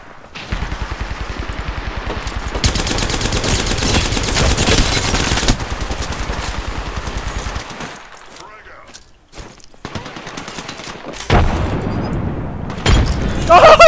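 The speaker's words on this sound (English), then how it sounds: "Killed the guy with a grenade!" Rapid automatic gunfire and a grenade blast in the battle-royale game Apex Legends, loud sustained bursts with heavy booms and brief gaps, with players talking over the action.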